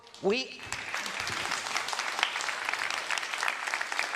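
A conference audience at a green finance event breaks into applause. A brief voice comes first, then steady, dense clapping fills the room.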